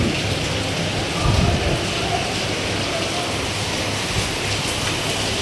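Heavy rain falls on the road trip from Mumbai to Trimbakeshwar, a dense, steady hiss with a low rumble underneath, loud and continuous from start to end.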